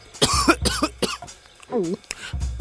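A man coughs repeatedly, several sharp, harsh bursts in uneven rhythm, close and loud as if food were stuck in his throat, with a strained vocal sound mixed in.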